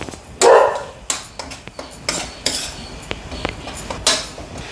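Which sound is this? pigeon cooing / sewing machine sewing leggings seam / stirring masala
stirring masala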